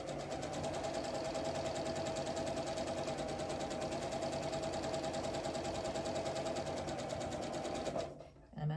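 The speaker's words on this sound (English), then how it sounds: "I don't think you can hear me when I'm sewing, so I'll try and only talk in between stitching." A sewing machine stitching a quilt seam into nine-patch blocks, a close, steady, rapid whir running continuously for about eight seconds before stopping, followed by a brief handling sound.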